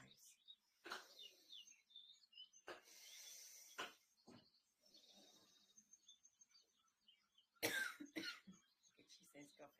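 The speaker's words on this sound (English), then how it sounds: "She says coughing." People cough during a group breathing-exercise session, with a few brief, separated coughs and throat-clearing sounds. Faint bird chirps and quiet voices sit in the background of a low-level recording.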